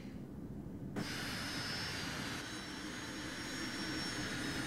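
An airplane engine drones in a flight video game, a steady jet-like hum that steps up in loudness after about a second and holds evenly with no talk.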